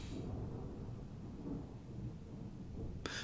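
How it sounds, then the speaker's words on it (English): A loud thunderclap rolls into a long, deep rumble that fills the whole stretch, heavy and continuous with no voices over it. "That's a very loud thunderclap."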